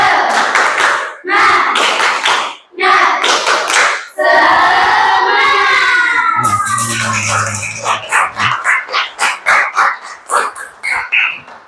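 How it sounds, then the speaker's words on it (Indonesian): An audience does a rhythmic spirit clap at an ice-breaking break in a school lesson, loud bursts of clapping in a set pattern mixed with voices, ending in quicker evenly spaced claps. "Ayo tepuk semangat."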